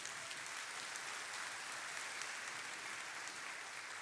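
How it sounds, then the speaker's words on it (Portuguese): Sustained applause from a large church congregation during a sermon, a dense even wash of clapping that holds steady throughout. "Pode aplaudir ao Senhor."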